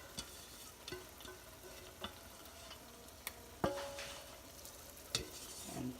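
Spinach paste being stirred into a tomato sauce in a frying pan for palak paneer, with a soft low sizzle under scattered faint clicks and scrapes of the utensil against the pan, and one slightly louder knock midway.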